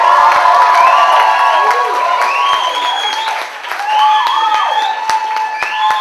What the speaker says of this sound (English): And give a huge, huge whoop and cheer for Mr. Dave Winter.